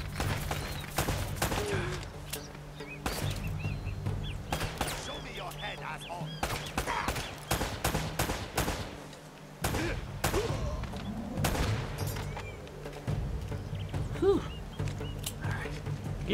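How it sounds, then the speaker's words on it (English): Rapid gunfire from a firefight in the video game Uncharted: Drake's Fortune, with dense repeated shots and bursts across the whole stretch over a steady low game-music hum, with occasional voices underneath. "I don't even know where the bullets are coming from"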